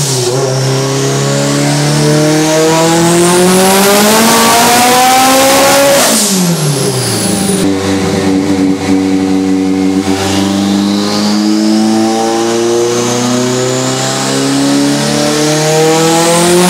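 A turbocharged Mitsubishi Evo 8 roars loudly on a dyno with its tires spinning, the engine pitch climbing through hard revving pulls, dropping sharply, then rising again under full throttle.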